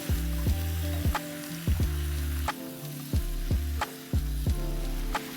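Ridge gourd frying in a pan for a Bengali milk curry, a steady sizzle broken by regular scraping strokes of a stirring spoon roughly every second, close and clear with no talking.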